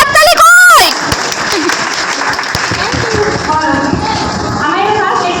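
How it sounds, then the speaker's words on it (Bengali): An audience at an exhibition breaks into loud clapping right after a voice calls out, the applause rough and steady with scattered claps and murmurs continuing underneath. "জোরে হাততালি কই?"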